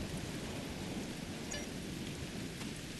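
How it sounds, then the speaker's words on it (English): Steady rain hiss with a low rumble of thunder in the Star Trek Online video game, on the planet Ryza, continuous and fairly faint with no voices. "Wow, rain on Ryza."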